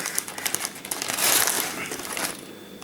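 A plastic bag holding the parts of a model signal box kit crinkles and rustles steadily as it is handled while the kit is unpacked.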